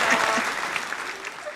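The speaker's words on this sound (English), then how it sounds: "Rollis, I need a clap for that." Brief burst of clapping in a live online conversation, a soft continuous patter that fades over a second and a half, with a voice talking over it.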